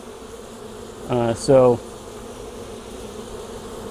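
Honey bees at an opened hive during a varroa mite sugar roll check make a continuous buzzing drone, with one close bee swelling loudly past for a moment, and a single short spoken word over it.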